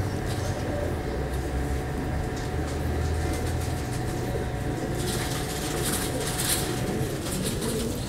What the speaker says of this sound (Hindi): देखे उस्ताद अज़ीज़ के घर के कबूतर है